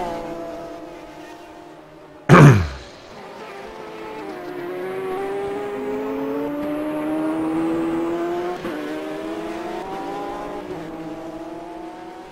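Porsche race car lapping a circuit in a club race series, a sharp loud burst early on, then a sustained engine note rising in pitch as it accelerates, with the tail twitchy under power.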